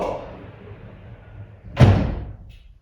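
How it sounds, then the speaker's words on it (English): A pocket door slides shut in a renovated ensuite, a soft rolling slide ending in a single solid thud that fades out, close and fairly loud. "And we have a pocket door."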